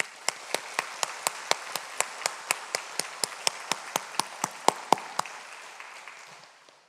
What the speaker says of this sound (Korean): 우리가 그분들에게 우리 감사와 격려의 박수를 뜨겁게 하겠습니다.